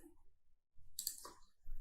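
A single soft computer mouse click lands in a quiet office-software session, close and brief.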